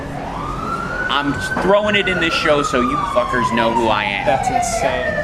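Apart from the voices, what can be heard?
ambulance siren passing outside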